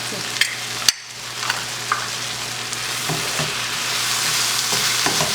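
Crunch wrap filling sizzles steadily in a pan while a spoon stirs through it, scraping and tapping the pan a few times over the frying hiss.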